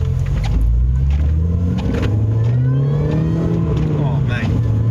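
A Mini Cooper S R53 with traction control off revs hard while driving, its engine note rising and falling under loud cabin noise. Someone talks over the engine at times.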